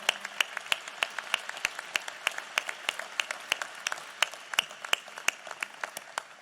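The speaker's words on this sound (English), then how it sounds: "I think they all deserve a big round of applause" An audience claps for honoured guests on stage at a National Space Council meeting, a sparse scatter of individual sharp claps at an uneven pace, fairly close and without talk.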